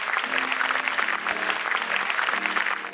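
Audience applause at a talk on mobile phone use in daily life, a dense sustained clapping from a large crowd, steady and fairly loud for the whole stretch.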